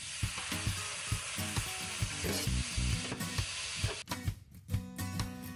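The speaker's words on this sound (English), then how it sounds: "I'm going to let it fry for some time, about maybe 20 minutes." Blended tomatoes fry in hot palm oil in a pot for Nigerian egusi soup, giving a steady close sizzle with repeated wooden knocks and scraping from stirring, then a sharper crackle toward the end.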